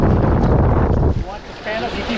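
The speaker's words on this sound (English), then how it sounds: "Wind's picked up. It's gotten real bad out here." Strong wind blasts across the microphone outdoors beside a windy coastal pass while fishing, a loud roaring buffet that drops briefly then gusts again, with someone talking.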